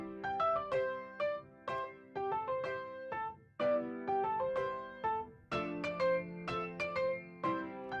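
Melodic music with plucked, bell-like notes processed through a record player emulation with dust, skips and filtering that trims the top and low end, giving a thin, quiet, vintage sound.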